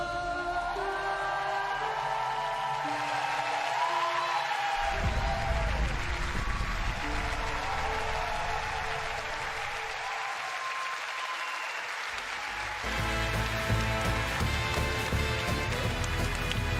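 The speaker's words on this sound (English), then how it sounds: "The echoes of the clapping." Applause from an audience at a press conference fills a large hall, sustained clapping echoing in waves.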